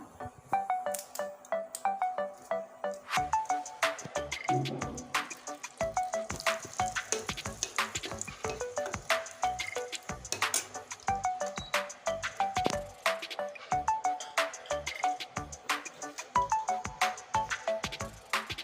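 A dried red chili and a bay leaf crackle in hot oil, a quiet stream of sharp spattering pops and ticks with a faint melody playing in the background.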